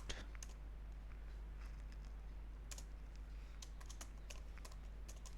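Quick, light keystrokes on a computer keyboard rattle out in irregular bursts against a steady low hum, close and clear with no one speaking.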